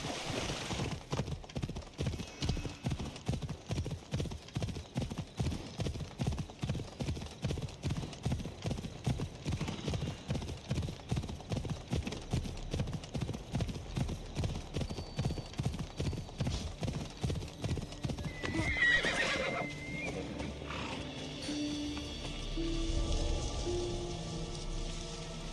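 Horse hooves gallop in a steady rapid clip-clop rhythm in Assassin's Creed Odyssey, across the Fate of Atlantis story. After about twenty seconds the hoofbeats stop and give way to softer ambient game sounds.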